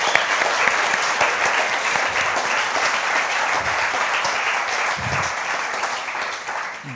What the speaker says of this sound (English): Can you give the guys up there a round of applause?